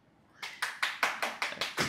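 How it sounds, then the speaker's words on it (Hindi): Several people applauding in an office meeting, a short run of eight evenly spaced, crisp claps at moderate distance, fairly quiet, with no talk over them. "नहीं ताली तो बजना ही चाहिए"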